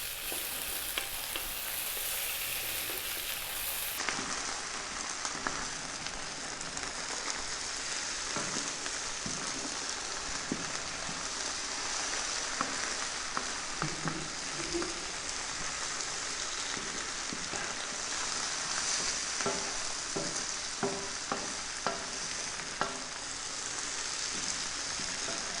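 Chicken, mushroom and onion stir-fry sizzle hard in a pan over very high heat, with a steady loud crackle and frequent scraping and tossing sounds close by.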